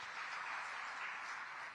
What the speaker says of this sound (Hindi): जरा जोरदार तालियां हो जाए इस योजना के लिए